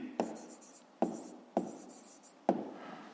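Pen or chalk writing by hand while working a fifth-grade maths exercise, heard as four sharp taps each followed by a brief scratchy stroke, close and fairly quiet, with no talking.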